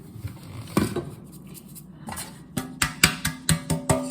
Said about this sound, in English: So I just shake it around to get the flour all over it.